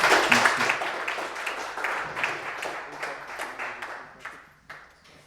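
An audience at a demo day presentation event applauds, a burst of clapping that starts strong and gradually thins into scattered claps as it fades out.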